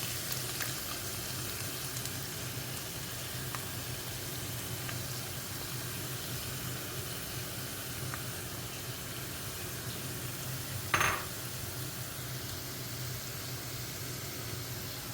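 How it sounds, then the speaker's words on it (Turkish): Ground meat and eggs fry steadily in a pan, with a constant close sizzle and a brief clink partway through. "Çemenli yumurtamız pişiyor."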